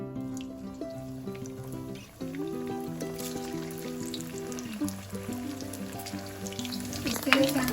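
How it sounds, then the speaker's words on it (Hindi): Maggi cheese balls deep frying in hot oil give a steady, continuous sizzle with faint bubbling, partly masked by melodic background music throughout. "अब हम बॉल्स को एक एक करके फ्राई होने के लिए इसमें ऐड करते जाएंगे।"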